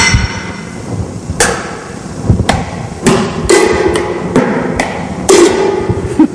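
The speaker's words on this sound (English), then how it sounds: "This is a potato masher." A potato masher bangs on a hard kitchen surface about a dozen times in an uneven rhythm, each hit a sharp, close clatter with no talking.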